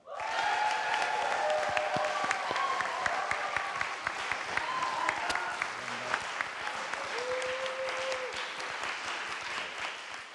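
A concert audience gives a sustained round of applause after a traditional Korean music performance at the National Gugak Center, with cheering and whoops over the crowd. The clapping swells at the start and fades gradually toward the end.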